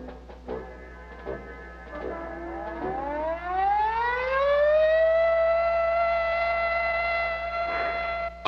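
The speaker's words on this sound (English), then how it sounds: "Attack warning came at 2015 hours." A civil defense attack warning siren winds up from a low growl to a loud, sustained wailing tone that holds steady, with faint ticking heard early on.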